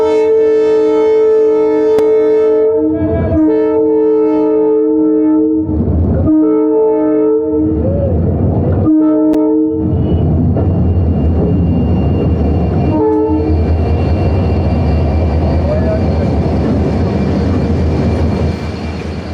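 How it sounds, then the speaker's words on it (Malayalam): A passing train near Bandra, Mumbai sounds its horn in several loud, close, sustained blasts separated by short gaps, then gives way to a steady, heavy rumble of the train rolling by. "ട്രെയിനിൻ്റെ ഹോണടി കേൾക്കാം."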